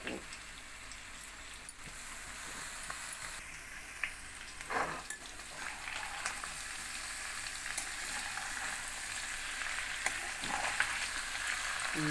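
Chicken pieces fry in a pan as home cooking for chicken fry, with a steady close sizzle and occasional stirring scrapes throughout.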